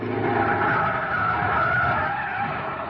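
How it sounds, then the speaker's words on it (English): A car skids hard as its brakes are jammed on in a radio drama sound effect, a loud, sustained tire screech holding steady for nearly three seconds with no voices over it. "Jam on the brakes."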